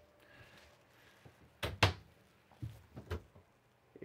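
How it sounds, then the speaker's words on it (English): A pull-out drawer in the bedroom slide-out of a 2023 Keystone Cougar 29BHL travel trailer slides open with a couple of close wooden thumps and a short rattle, with no talk. "pull out drawer there."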